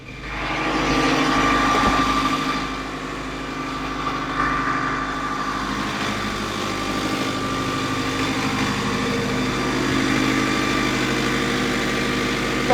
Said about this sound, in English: engine's running smoothly, water maker is on down here